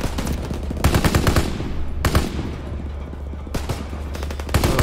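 Automatic weapon fire in Call of Duty: WWII, loud rapid bursts of machine-gun shots in several volleys over a steady low rumble of battle, with no talking.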